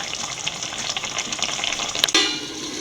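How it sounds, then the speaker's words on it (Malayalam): Sardine curry simmering in a pot, with a steady bubbling, hissing boil close by and a sharp clink of a lid or utensil near the end. "നല്ലപോലെ ഒന്ന് ചുറ്റിച്ചതിന് ശേഷം തിളയ്ക്കാനുള്ള സമയം കൊടുക്കുക"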